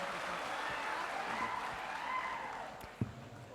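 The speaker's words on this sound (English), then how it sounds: "Another clap, please" Faint, steady clapping from an audience at a graduation celebration, a soft continuous patter at a distance with a single sharper knock near the end.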